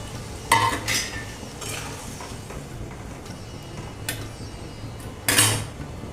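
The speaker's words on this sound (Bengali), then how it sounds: "ঝোলটা ফুটে গেল, এবারে আমি আলু আর পটলটা দিয়ে দিচ্ছি" Potatoes and pointed gourd go into a boiling Katla fish curry (jhol): a few sharp metal clanks and clatters of utensils over a steady, close bubbling hiss, with no voices.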